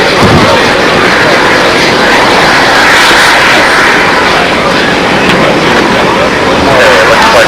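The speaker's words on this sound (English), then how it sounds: "French Rafale aircraft on the field, and Bob Violet flying the other one" A radio-controlled scale model Rafale jet flies at an outdoor scale-model meet on a windy day, a loud, steady roaring whoosh that holds for several seconds and swells slightly, while a voice talks over it.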